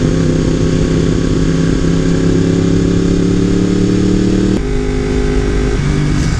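Yamaha R1M motorcycle engine under way, a loud sustained mid-pitched drone with the pitch gradually rising as it pulls, then a sudden shift in tone and settling, recorded close on the bike with wind noise.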